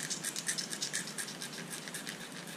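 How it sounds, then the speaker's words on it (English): A razor blade scraping old gasket material off a GM 3800 engine block held perpendicular to the surface, a quiet, rapid series of short raspy strokes in a steady rhythm, with no talk. "we're gonna scrape all this material off perpendicular with the surface and just scrape it off"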